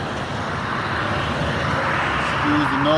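Steady broadband rush of nearby highway traffic, a continuous loud drone building slightly toward the end, with a passing engine tone at the close.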